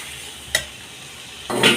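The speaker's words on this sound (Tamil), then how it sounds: "கொஞ்ச நேரம் எண்ணெயிலே ஃப்ரை ஆகட்டும்." Oil sizzles steadily in a pan as chicken keema fries, broken by two scraping stirs, one brief and one longer and louder at the end.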